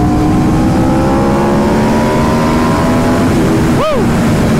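An Aprilia RSV4 motorcycle with an SC-Project CR-T exhaust accelerates on the street, engine pitch climbing steadily under loud wind rush before a brief dip as the rider shifts.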